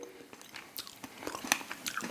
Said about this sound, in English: And you start chewing it and chewing it and chewing it and chewing it, and you can't swallow it.